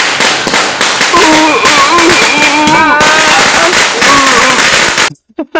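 Diwali firecrackers crackle and pop loudly and nonstop in rapid bursts outdoors, with voices mixed in, then cut off abruptly into near silence with a few faint sounds after.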